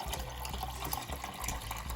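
Water running steadily into the water tank of a Sage Barista Express espresso machine, a continuous soft splashing pour that stays even throughout, fairly quiet and close.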